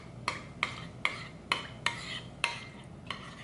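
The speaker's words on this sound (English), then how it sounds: "I'm just gonna go ahead and mix all this together" A utensil stirs sauce ingredients together in a bowl, giving quiet, evenly spaced clinks and scrapes of metal against the bowl, about seven strokes in a steady rhythm.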